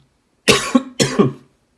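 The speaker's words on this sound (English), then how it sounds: "Sorry guys, I just had a coughing fit there." Two sharp, close coughs in quick succession, each with a rough rasp, then silence.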